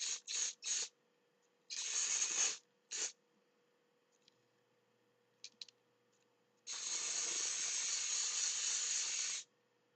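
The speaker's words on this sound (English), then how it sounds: "just spray more of the dry shampoo" Dry shampoo aerosol sprayed onto hair styled as a zombie look, a series of short hissing bursts followed by one long continuous spray, close and clear with quiet gaps between.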